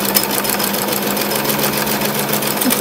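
Steady, continuous whirring of a sewing machine stitching a nylon-thread frill hem on a curtain valance, running close and evenly throughout without pause.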